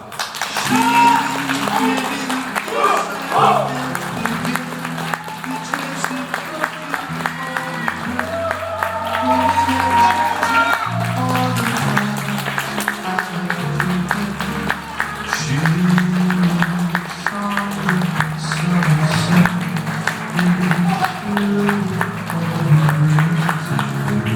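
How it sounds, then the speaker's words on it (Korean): Wedding guests keep up a long, continuous stretch of applause and cheering as the bride enters a wedding hall, with music and voices mixed in underneath throughout. "신부 임보한 양을 여러분들의 열화와 같은 박수와 환호로 만나 뵙도록 하겠습니다"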